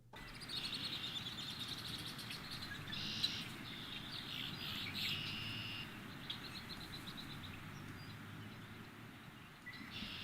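Faint birds chirp and twitter intermittently in the distance over a steady low outdoor hum, with no talking.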